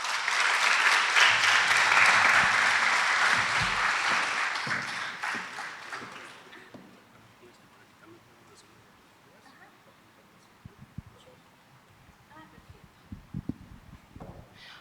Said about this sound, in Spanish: por lo cual les pido un fuerte aplauso